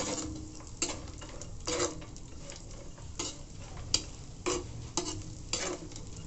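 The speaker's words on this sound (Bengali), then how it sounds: "সব কিছুকে ভালোভাবে ভেজে নিচ্ছি।" Cashews, almonds and raisins frying in a pan on low flame, a quiet steady sizzle with regular scraping strokes of a spatula and a few sharp clicks against the pan.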